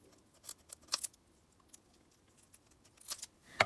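Several quick, crisp snips of scissors cutting through prawn shell, in short irregular bursts with quiet pauses between.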